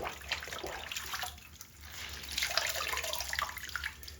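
Gloves being rinsed under a running tap, a steady splashing water stream that swells and fades as they are moved through it, fairly close with no talking.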